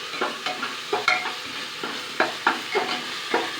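Ambur biryani masala paste sautéed in a pressure cooker, a soft sizzle broken by repeated scraping strokes of a spoon or ladle in an uneven rhythm, close and alone without talk.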